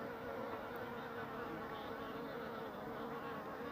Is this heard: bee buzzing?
yes